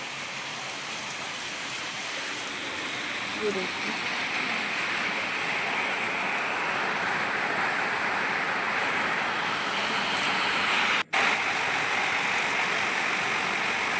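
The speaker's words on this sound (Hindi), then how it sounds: "आज ना हमारे यहाँ ना बारिश बहुत तेज़ से हो रही है।" Steady, dense rain hiss fills the scene, a continuous heavy village downpour outdoors with a brief dropout near the end and a short spoken remark early on.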